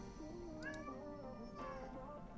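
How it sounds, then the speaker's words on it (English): A house cat gives a couple of soft meows close by, faint against a quiet indoor background, with no talking. "Did you guys hear my cat meow at me?"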